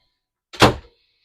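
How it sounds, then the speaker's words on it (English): A cedar locker door on an Island Packet 439 sailboat swings shut onto a soft latch, giving one short muffled wooden thunk up close, with silence before and after. "The door will stay closed with what's called a soft latch."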